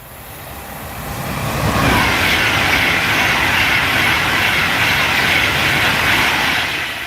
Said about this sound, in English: Here comes another Pendolino.